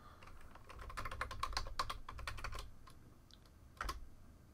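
Fingers tap out a password on a computer keyboard, a quick close run of light key clicks with brief pauses and a final sharper keystroke, no talking.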